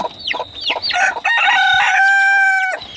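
A rooster, a domestic country chicken kept in a cage, crows close by in one long, loud cock-a-doodle-doo after a few short clucking notes, with no talking.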